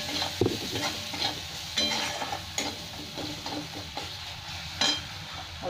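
Spice powders of cumin, a little coriander, ginger and Kashmiri chilli sizzle in hot oil for a Bengali-style fish curry with eggplant, with steady frying hiss and sharp scraping stirs from a spoon, no voices.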